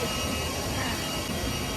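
Cabin noise from a small domestic passenger flight to Bangalore: a steady, dense engine roar and rushing air fill the whole stretch evenly, loud and unbroken, with no clear talking.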